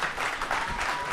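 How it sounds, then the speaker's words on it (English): Applause at an outdoor debate event in Phoenix, Arizona, a brief dense wash of clapping from a crowd that carries on steadily for about a second. "Let's give everyone a round of applause."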